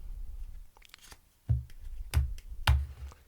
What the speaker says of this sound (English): we'll give it one more good overhand shuffle that we like doing in your ears